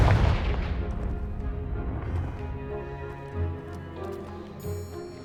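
Hogwarts Legacy's Confringo blasting spell blows apart a pile of debris blocking a stairwell, a loud booming explosion up front that decays into a long rumbling, tonal rolling tail of game effects, with no speech over it.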